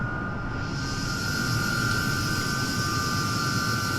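A Hawker Hunter two-seat jet roars at a steady high whine with its speed brake deployed, a continuous loud flight-simulator engine drone with no talk.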